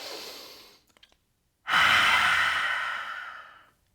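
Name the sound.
full inhale and exhale breathing during yoga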